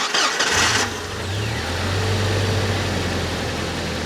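A 1998 Jeep TJ Wrangler engine cranks briefly, catches and fires up, then settles into a steady loud idle close by with no talk.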